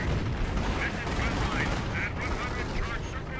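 Artillery and gunfire from the Company of Heroes strategy game crackle and thump in a dense, continuous barrage, with a player's voice talking over the battle noise.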